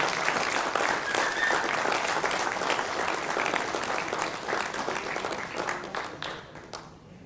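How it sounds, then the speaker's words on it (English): An award ceremony audience at a product leaders' conference gives a big round of applause for the session manager, a dense wash of clapping that holds steady, then thins and fades out near the end. "Big round of applause for Kumar."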